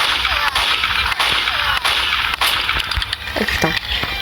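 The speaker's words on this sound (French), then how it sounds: "Ou sinon, utilisez votre pistolet." Sharp pistol shots from the video game BurgerZ, several crisp cracks spaced irregularly over a steady background of game noise, fairly loud and close.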